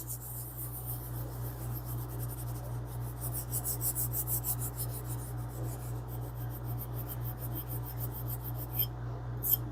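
A conditioning pad rubs polish into a surface during tool restoration, giving a steady dry scrubbing rasp that continues for the whole stretch, close and fairly quiet over a constant low hum.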